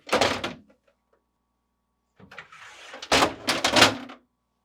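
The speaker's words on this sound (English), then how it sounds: "Start by opening the doors. Then, pull the drawers forward," Refrigerator crisper and meat/deli drawers pulled forward and lifted out: a short clunk, a pause, then a sliding scrape ending in a couple of louder plastic rattles and thumps, close by with no talk.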